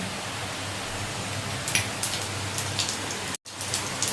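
Hot oil crackles and hisses steadily as cumin seeds sizzle in a wok, with a few sharper pops scattered through the continuous frying noise and a brief break near the end.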